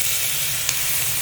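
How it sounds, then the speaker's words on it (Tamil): Tomatoes go into a hot pan of sautéed green chillies for a Tamil dish, bringing a steady, close hiss of sizzling that runs the whole short moment with one faint tick partway through. "அடுத்து தக்காளி போட போகிறோம்"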